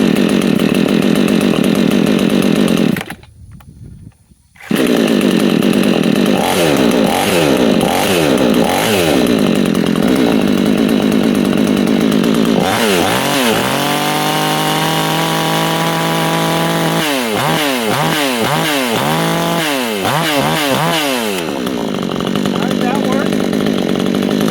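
A Vevor 58cc chainsaw is pulled and started, cutting out once, then roars loudly and revs up and down repeatedly, close by.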